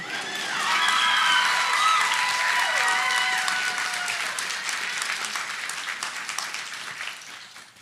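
A commencement crowd at the MALS ceremony claps loudly with a few high cheers and whoops early on, the applause gradually tapering and thinning toward the end.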